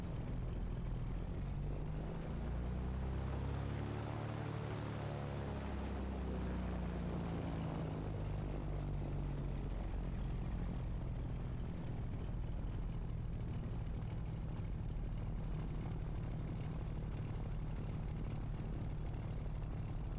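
Piper PA28 propeller plane taxiing in Microsoft Flight Simulator 2024, a steady low engine drone with a droning propeller hum that holds at an even level throughout, with no voices.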